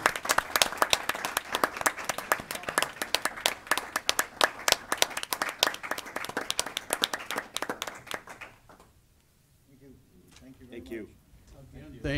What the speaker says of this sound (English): I think we all owe them a round of applause.